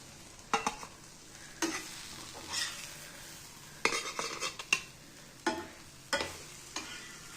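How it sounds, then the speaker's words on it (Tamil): Paneer pieces frying in a pan, with a soft sizzle under repeated sharp scrapes and clinks of a utensil stirring and lifting them out, close and fairly quiet. "இப்போ இது எல்லாத்தையுமே நான் பாருங்க ஃப்ரை ஆகிடுது"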